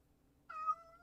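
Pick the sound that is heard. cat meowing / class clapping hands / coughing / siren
cat meowing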